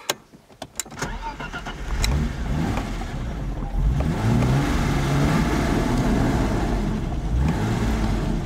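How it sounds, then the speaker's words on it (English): A BMW E34 engine starting up and revving, a few sharp clicks at first, then a loud, close engine rising into sustained revs that swell and dip, with no talking. "I'm sorry that I rev it like this, but she needs a bit of a notch to start"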